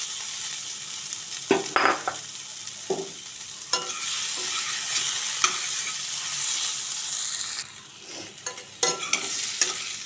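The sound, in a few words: stirring fried potatoes into frying spices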